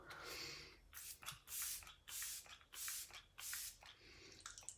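Several short, hissing bursts of makeup setting spray misting onto a face, each about half a second, repeated in quick succession at close range with soft rustling between them.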